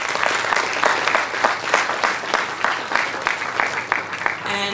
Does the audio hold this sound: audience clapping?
yes